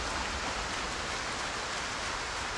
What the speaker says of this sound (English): Nice thing about it raining is the zombies basically can't hear you when it's this heavy.